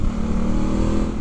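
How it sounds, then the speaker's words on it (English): Honda Africa Twin motorcycle with its stock exhaust, the engine holding a loud, steady, throaty drone close by, with no voices. "That engine just sounds immense. It's a stock can as well, isn't it?"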